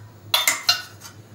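A metal lid settles onto a cooking pot of simmering curry with two or three close, bright clinks in quick succession, followed by a fainter rattle; no one speaks.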